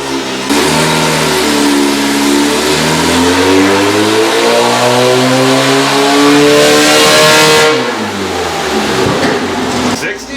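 A Volkswagen engine fitted with a header revs loudly and climbs to high RPM, its strained mid-range roar rising and falling over about ten seconds, close and dominant, while voices talk over it.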